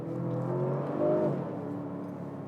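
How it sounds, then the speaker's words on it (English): A 2022 Jaguar F-Pace P400e plug-in hybrid accelerating, its engine giving a smooth, moderately loud rising hum that swells briefly and then settles, heard alone without talk. "It really sounds like a V8."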